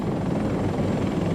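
An evacuation helicopter in Saigon gives off a steady, heavy low rotor thump and engine roar, close and continuous throughout with no voices.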